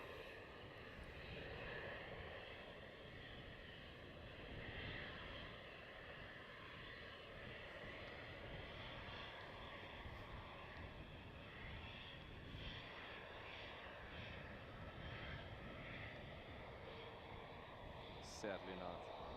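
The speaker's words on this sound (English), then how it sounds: "here we have German Airways Embraer 190 going to Bremen, Germany" German Airways Embraer 190 departing at night from runway 36L at Amsterdam Schiphol, a steady, distant, low jet engine rumble that hums on throughout, with faint chatter in the background.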